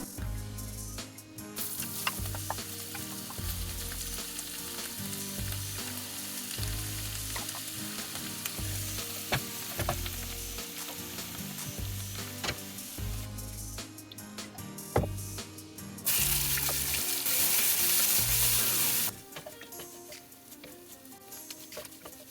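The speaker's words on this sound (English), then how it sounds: "the next step is going to be to put the onions and the celery into the pan to sweat them" Chopped onions and celery sweat in a frying pan for a Japanese potato curry, a steady loud sizzle with occasional stirring scrapes, briefly swelling to a harsher hiss near the end, with no one talking.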